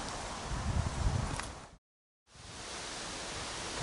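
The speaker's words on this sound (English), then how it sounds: "Don't seem to ever be able to escape the wind here. Bit of a wind trap, and so it is blowing straight through the tunnel into my face." Wind blows straight through a tunnel in a loud, rushing roar like a steady gust hitting the microphone. It cuts to silence for about half a second midway, then returns at a slightly lower level.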